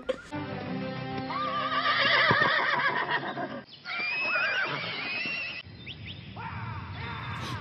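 A horse whinnies loudly and at length in an animated film, a second neigh following after a brief pause, close by with some hoof sounds.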